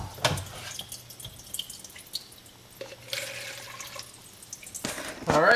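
Maple sap water trickles and drains through a filter while ice sits in the container, a light running and dripping flow near the listener that starts and stops across the few seconds.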